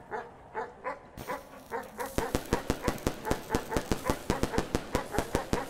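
Dog barking in the pixel-art exploration game Animal Well, a steady run of evenly spaced, sharp barks that grow louder and quicker, close and clear, with no talking over them.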